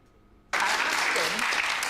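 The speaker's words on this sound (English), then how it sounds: "And all the people who are applauding." A crowd bursts into applause after a half second of quiet, a dense, steady wash of clapping that carries loud and even to the end.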